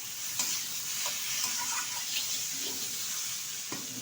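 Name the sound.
taro and potatoes stir-fried with spices in a pan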